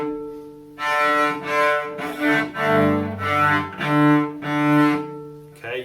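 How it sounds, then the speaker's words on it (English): Beginner cello bowing with scratchy, rough tone and squeaky overtones, several uneven sustained strokes that swell and fade, played alone and close. "Beginner sounds on the cello might sound like this."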